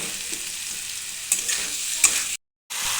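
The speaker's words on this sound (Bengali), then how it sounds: "এটা ধনে গুঁড়ো দিয়ে এবার এটাকে ভালোভাবে মিশ মিশিয়ে দেবো এবার এটাকে ভালোভাবে এখন কিছুক্ষণ কষাতে থাকবো" Spice paste with ground cumin and coriander powder stirred and fried in a pan for a fish curry, a steady sizzle broken by two spoon scrapes and a brief dropout near the end.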